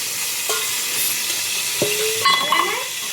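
Curry leaves and green chillies hit hot oil in a pan, a steady loud sizzle with crackling spits and a few stirring scrapes of a utensil.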